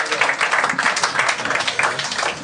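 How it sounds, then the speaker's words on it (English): A live podcast audience claps together in a steady, dense burst of applause, filling the room evenly for a couple of seconds without voices on top. "Give yourselves a big round of applause."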